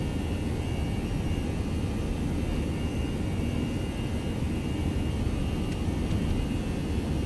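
Airbus A321 jet engines at takeoff thrust in the X-Plane 11 flight simulator, a steady broadband roar that holds level throughout, with no voices over it.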